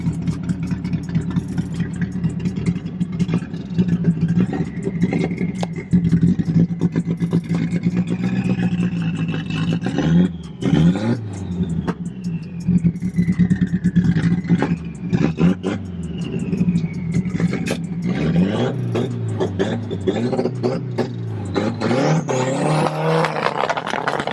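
A Honda CRX with a swapped K24 engine, running a little rough, idles with a lumpy uneven note, then gets blipped and revved repeatedly, pitch climbing and falling, loud and close, climbing high at the end.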